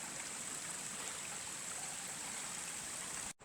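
A small stream running near an antimony mine, with steady soft trickling and rushing water, constant and fairly quiet, heard alone with no voices.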